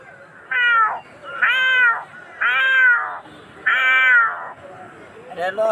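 A man imitates a cat, giving four long, drawn-out meows in a steady sequence, each clear and close with short pauses between them.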